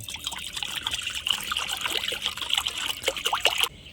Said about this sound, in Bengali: এবার এগুলোকে আমি সেদ্ধ করে নেব জল দিয়ে দিচ্ছি